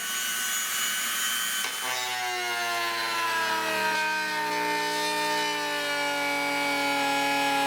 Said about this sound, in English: I like using the Dremel tool with the grinding stone on it